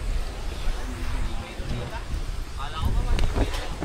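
Gusty wind at a campsite in Bicol buffets the microphone with a rough, rumbling roar, and voices speak briefly beneath it.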